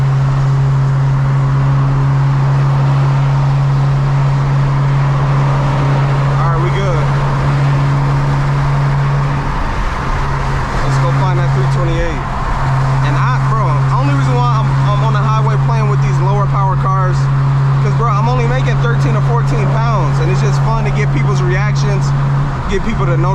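A tuned BMW 335i with Stage 4 turbo upgrades running about 13 to 14 psi of boost cruises on a highway, its steady engine drone and low exhaust hum continuous and close throughout, with brief dips and shifts in tone midway.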